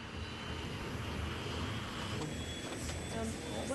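Airliner jet engine roaring at maximum power during an in-flight emergency, a steady loud broadband rumble and hiss that holds without pause, with a faint brief voice under it.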